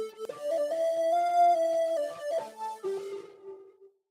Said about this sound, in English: just this reverb and the lower layer sounds like this